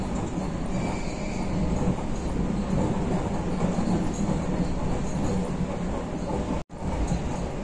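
Steady rumble and clatter of an electric commuter train heading toward Nizhny Tagil, Russia, rolling along the rails, loud and continuous from inside the carriage, with a brief dropout near the end.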